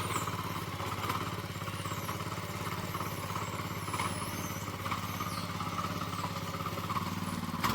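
A tractor engine runs steadily with a low, throbbing chug, continuous and fairly close, during rice sowing, with no talking.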